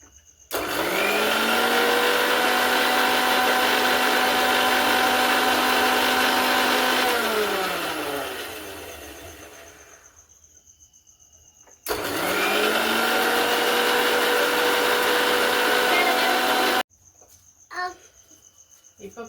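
Electric blender whipping coconut oil mayonnaise, two loud sustained runs of high whirring motor with a falling pitch as the first run stops, separated by a short pause.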